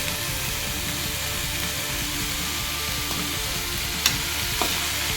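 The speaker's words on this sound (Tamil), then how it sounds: "உப்பு சேர்த்து நல்லா வதக்கி விடுங்க. எல்லா பக்கமும் அப்போ தான் சேரும்." Beans, carrot and cabbage stir-fry sautéing with salt in a pan, giving a steady, dense sizzle and frying hiss throughout with a couple of faint clinks from stirring. The sound is close and continuous, with no talking.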